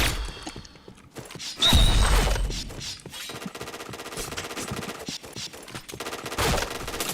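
Rapid bursts of automatic gunfire and shots in a shooter video game during a live stream, dense and continuous with game effects layered over a music-like background, crackling throughout.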